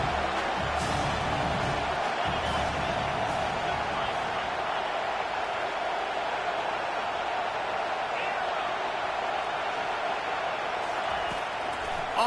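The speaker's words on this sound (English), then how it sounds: "Decibels rising as the crowd gets behind this defense on 3rd down." A stadium crowd roars on third down in the College Football 25 game, a dense, steady wash of noise that holds loud throughout with scattered cheers, while a commentator talks over it.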